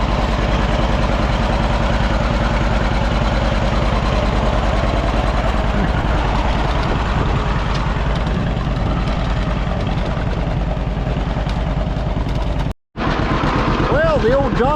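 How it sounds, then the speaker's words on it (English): An old John Deere B tractor engine runs steadily nearby with a loud, low, rhythmic chugging idle, briefly cutting out for a moment near the end before resuming. "Well, the old John Deere B don't run too bad."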